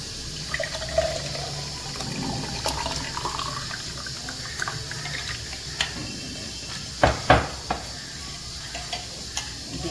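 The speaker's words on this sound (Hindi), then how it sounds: "तो बस अब हम इसे ग्लास में डालते हैं।" Gond katira sharbat pours into two glasses while ice is held back, a soft liquid trickle under faint kitchen background, with a couple of louder splashy bursts near the end and no talking.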